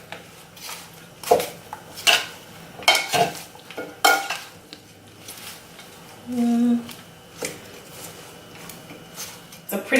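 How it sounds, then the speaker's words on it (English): Collard green salad gets tossed in a bowl, with a utensil knocking and scraping against the dish in irregular clinks and a soft swishing of leaves, heard close up. "I'm gonna mix this all together."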